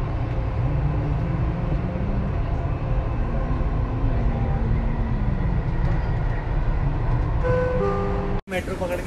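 Dubai Metro train running, a steady loud rumble and rolling noise heard from inside the carriage throughout, with faint tonal electric whine and a brief sharp drop near the end.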